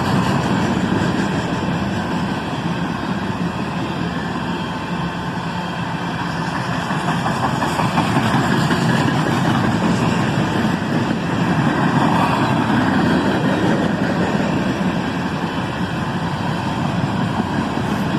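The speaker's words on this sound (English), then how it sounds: "here's a big cut of empty steel slab cars, heading north, back to Dearborn, Michigan" A freight train of empty steel slab cars rolls past heading north, a dense, broad rumble and clatter of wheels and cars that swells and stays continuous for the whole stretch.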